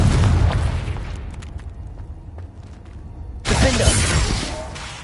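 A Confringo blasting spell explodes in Hogwarts Legacy, starting as a loud rumbling burst that fades, then a second sharp, bright blast near the end.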